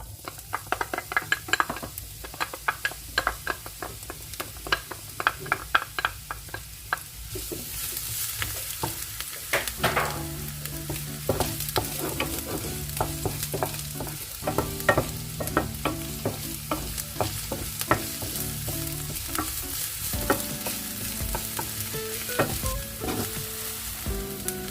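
Chopped onion sizzles steadily in hot oil, with frequent scraping and stirring clatter from a utensil against the pan throughout, near and fairly loud, with no voices.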